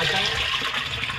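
Water rushes steadily into a boat's bait well on a commercial fishing boat, a continuous hissing, splashing flow close by that holds level throughout, with no talk over it.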